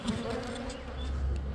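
A small caught swarm of honey bees drones inside a beehive during an autumn hive check, a close, steady buzzing hum of many wings.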